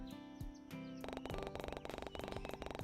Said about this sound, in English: Waking up to the sound of birds chirping outside